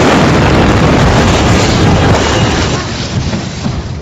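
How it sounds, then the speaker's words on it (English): A loud, continuous roar of explosions at an international airport, with blasts and rumbling debris filling the air, dense and booming throughout, easing slightly toward the end. "Explosions have hit an airport there."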